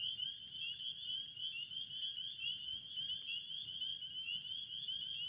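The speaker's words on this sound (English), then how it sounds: "The spring peepers." A chorus of spring peepers trills continuously after rain, a thin, high, steady calling heard at a moderate distance in an otherwise quiet evening.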